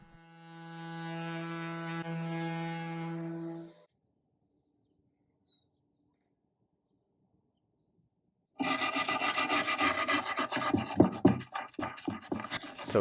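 A wooden dresser is sanded to strip paint, first as a steady droning sander, then a long silence, then loud scratchy rasping strokes up close, with no talking.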